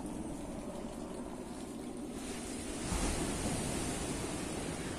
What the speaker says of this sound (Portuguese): Aqui tem mais ondas, esse lado.